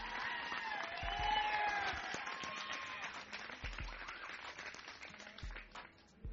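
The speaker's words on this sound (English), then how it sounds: "give a big round of applause to Mountain Dew team rider Paul Rodriguez." Crowd of excited kids in Portland cheering and applauding skateboarder Paul Rodriguez, a Mountain Dew team rider; dense clapping with whoops and shouts rises early, then continues steadily, with some low thumps underneath.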